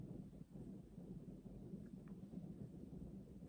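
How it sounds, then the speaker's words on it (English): A low rumble of distant thunder rolls steadily beneath soft rain and wind noise, faint and continuous outdoors. "there's bad weather out there."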